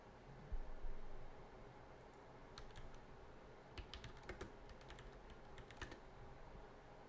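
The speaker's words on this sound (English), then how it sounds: "Some nice keyboard noises." Keys clatter on a computer keyboard in a steady stream of fairly faint clicks, with a few louder bursts of clacking, set over a low background hum.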